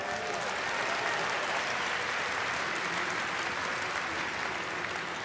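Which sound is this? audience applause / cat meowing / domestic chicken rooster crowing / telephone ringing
audience applause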